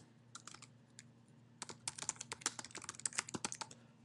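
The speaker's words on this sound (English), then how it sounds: "So I'm going to just type in introductions." Computer keyboard typing, a quick run of close, crisp key clicks that starts sparse and grows into a dense burst, with no voices over it.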